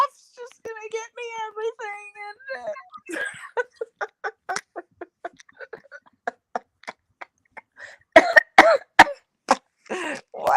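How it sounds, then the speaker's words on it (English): A short voiced sound, then a long run of sharp coughs, one after another, some spaced apart, growing louder and harsher toward the end. "The cough's just gonna get me"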